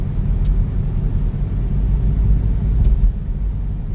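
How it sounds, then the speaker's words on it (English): A car drives through Adelaide's city streets at night, its engine and road noise forming a steady, close interior rumble with two brief higher clicks along the way. "driving through the city"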